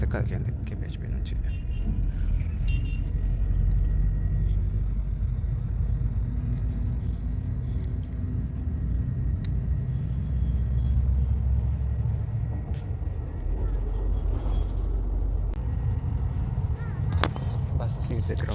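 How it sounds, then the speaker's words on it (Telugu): An old Morning Star Travels bus pulls away from KPHB in Hyderabad on a poorly maintained coach, its engine giving a steady low rumble throughout with occasional knocks and rattles. "ఫైనల్గా బస్సు అయితే కదిలింది కేపీహెచ్పీ నుంచి."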